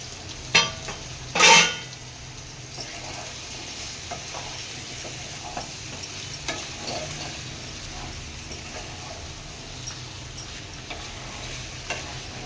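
Tengra fish heads sauté in hot oil in a pan, giving a low, steady sizzle with faint scraping. Two sharp clatters come early, then only soft scattered ticks from the pan.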